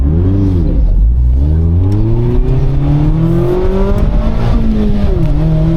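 A Mazda Miata, a daily-driven car, accelerates hard on an autocross course, its engine note rising and falling steadily through gear changes, loud and close from inside the cabin.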